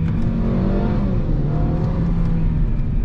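A Mercedes A250 engine with a seven-speed dual-clutch gearbox revs through a downshift, a loud, close, steady drone that climbs and dips in pitch over about three seconds, with no talk.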